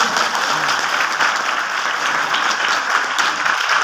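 Sustained applause from an audience at a motivational training session, a dense steady wash of many hands clapping throughout, moderately loud with no clear talking.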